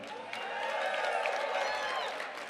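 An audience at a Black History Month celebration hosted by the mayor in a museum hall applauds the Deputy Mayor, a sustained wash of clapping and crowd noise with scattered voices and cheers throughout.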